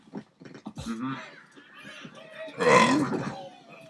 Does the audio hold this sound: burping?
yes